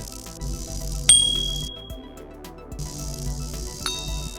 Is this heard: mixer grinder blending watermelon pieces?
no